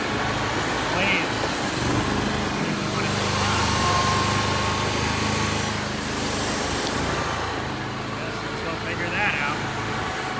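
Scag lawn mower engine running steadily while cutting grass, a continuous droning hum with a higher whine, fairly close, with people talking over it.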